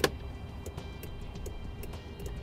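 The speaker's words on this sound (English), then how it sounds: "Here's our left turn signal." Left turn signal on a Roadmaster tow dolly with electric brakes, a steady series of sharp relay clicks roughly every half second, close and distinct over a low background rumble.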